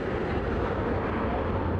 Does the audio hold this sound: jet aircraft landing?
yes